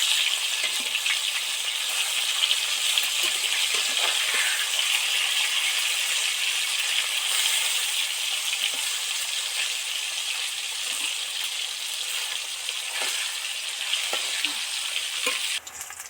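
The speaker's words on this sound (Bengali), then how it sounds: "ডিপ ফ্রাই করে ভেজে নিয়েছি মাছগুলো" Bhetki fish deep fries in oil with a loud, continuous, dense sizzle and crackle, close and steady, with occasional small knocks from the pan.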